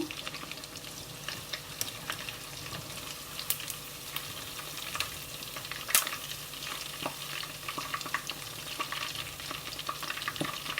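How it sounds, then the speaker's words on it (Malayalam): Chicken pieces fry in hot oil with a steady, dense crackling sizzle, scattered sharp pops and occasional stirring, close and continuous throughout. "ഇപ്പോൾ നമ്മുടെ ചിക്കൻ ഏകദേശം ഫ്രൈ ആയിട്ടുണ്ട്."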